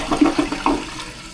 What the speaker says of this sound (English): I just filled the bowl with water and the back tank with water, so first flush, hopefully it works.